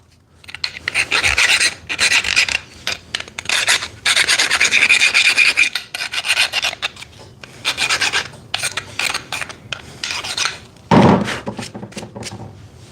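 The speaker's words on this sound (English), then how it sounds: "You only got to file a little bit." A hand file rasps back and forth across a freshly cut metal edge left by a bandsaw blade, in repeated bursts of gritty scraping with short pauses between strokes and a single knock near the end.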